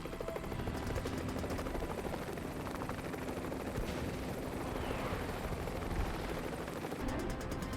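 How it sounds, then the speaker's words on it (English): HMX military helicopters hover at Quantico while an assault team drops by fast rope, a loud, unbroken rotor roar with rapid thudding blade chop filling the whole stretch. "Today at Quantico, HMX Helos are dropping an assault team by fast rope."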